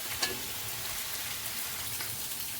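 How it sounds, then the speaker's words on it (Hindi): Onions sizzling in a pan for savour pulao, a steady, even hiss of frying with a faint stir or clink near the start, heard alone. "एक तरफ हमारे प्याज इसमें पक रहे हैं"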